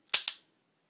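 A Taurus .38 Special revolver fires at an indoor range at 10 yards: two sharp, quick gunshot cracks in close succession, each decaying fast, then silence.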